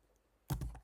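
Brief burst of computer keyboard typing: a quick cluster of several close, crisp key taps after a near-silent pause.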